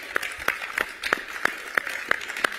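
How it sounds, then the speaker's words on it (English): Audience at a political summit claps in a sparse, uneven rhythm, with about eight distinct sharp claps spaced roughly a third of a second apart, moderately near, over a faint room hum. "you clap too soon."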